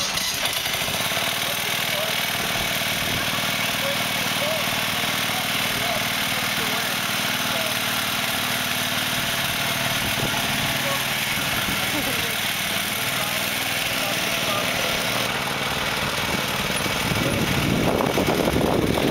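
A motorized shopping cart's small engine runs steadily in a constant mid-pitched drone, growing rougher toward the end, while people talk over it.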